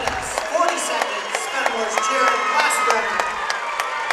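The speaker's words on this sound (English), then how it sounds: "Fenimore's cheering" A crowd cheers and claps steadily throughout a high school team wrestling sectional championship match in a gym, loud and continuous, while a commentator talks over it.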